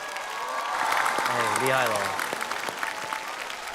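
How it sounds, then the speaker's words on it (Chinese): A studio audience applauds and cheers a street-dance competition troupe's recreation of the Thousand-Hand Guanyin dance. The clapping swells into a sustained, loud roar, and an excited voice calls out over it. "再次把掌声送给他们"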